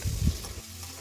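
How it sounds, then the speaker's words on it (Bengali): Pointed gourd and onions sizzle in a pan, with a few low clanks of stirring at the start before the frying hiss settles down. "পটল পেঁয়াজের সাথে মিশিয়ে নিয়ে ভেজে নেব"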